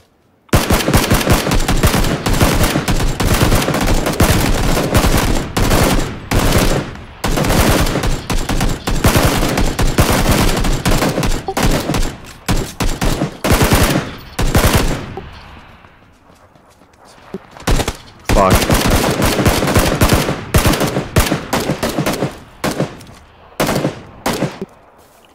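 Dense, loud gunfire in PUBG, with rapid bursts and volleys of shots that fill nearly the whole stretch, broken by one short lull before the shooting resumes in clustered bursts.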